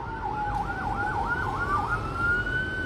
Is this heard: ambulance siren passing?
yes